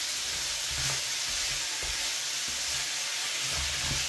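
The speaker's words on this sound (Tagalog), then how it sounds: "gigisahin lang natin siya hanggang magkulay pula" Crab sautéing in a pan for ginataang alimango with squash and water spinach, giving a steady, close hiss and sizzle with faint stirring knocks underneath.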